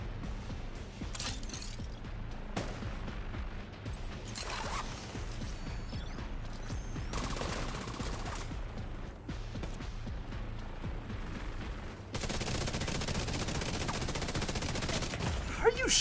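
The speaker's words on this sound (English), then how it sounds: "How are you shooting me from there?" Video game firefight with enemy gunfire aimed at the player, rapid bursts and volleys of shots running throughout, dense and fairly loud, with a heavier sustained barrage near the end.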